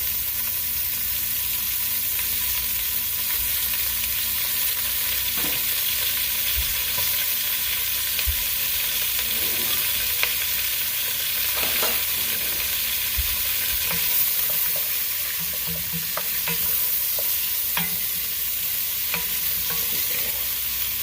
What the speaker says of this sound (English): Then we're just going to add 1 large onion that has been roughly chopped. Get these going.